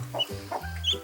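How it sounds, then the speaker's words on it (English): Baby chickens in Australia clucking softly, a few short low clucks and chirps in quick succession, close and fairly quiet with a faint background hiss. "there are more baby chickens that have hatched from their eggs"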